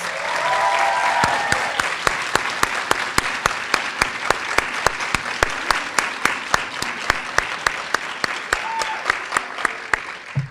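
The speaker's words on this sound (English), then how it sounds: "I think we should give him a round of applause." A room full of people claps steadily at a nursing graduate school pinning ceremony, with a few sharp louder claps standing out over the dense patter, continuing for about ten seconds.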